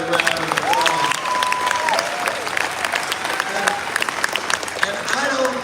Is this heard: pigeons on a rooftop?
no